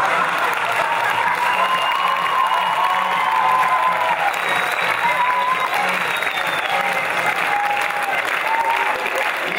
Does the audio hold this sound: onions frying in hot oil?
no